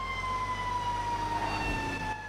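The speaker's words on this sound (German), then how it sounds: "Das ist eine Sirene" A loud, steady electronic siren wails in a video game, a sustained tone that slowly dips in pitch over a low rumbling background, with no talk.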